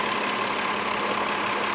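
The engine of a 2001 Lexus IS300 runs steadily close by with a continuous, even hum and no talk over it.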